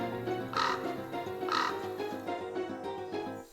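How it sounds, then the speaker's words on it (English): A crow caws twice in a storybook setting, two loud harsh calls about a second apart with quieter trailing cries after them, near and clear over faint background tones. "The crow kept flying straight into the thorn bush. "Caw! Caw!" it cried."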